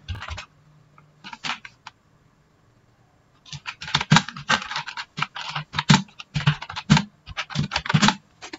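Computer keyboard typing while entering banner text, a few short bursts of keystrokes, a pause, then steady rapid clicking close by with no talk.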